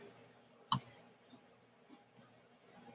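Computer mouse clicking while formatting text in graphics software, one sharp close double click followed by a fainter single click later, against a quiet background.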